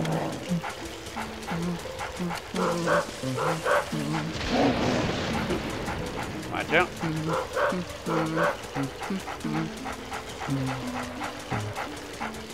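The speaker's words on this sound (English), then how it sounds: "make that yapping dog be quiet" Yapping dog in the video game Luigi's Mansion, repeated short barks and yips in a quick rhythm over game music, with a person talking over them.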